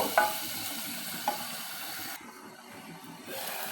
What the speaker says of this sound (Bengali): এখন আমি মশলাগুলোকে ভালোভাবে কষিয়ে নেব